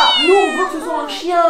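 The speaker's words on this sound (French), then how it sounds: "ça compte pas en fait, c'était un chat." A cat meows repeatedly from a video playing on a screen, loud and close, while children talk over it in French.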